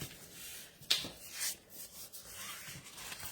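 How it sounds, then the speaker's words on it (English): Designer series paper is folded into a Z fold card, giving a quiet soft rub and crinkle with a couple of brief sharper rustles, close and alone with no talking. "now you are going to fold this so it becomes a Z fold"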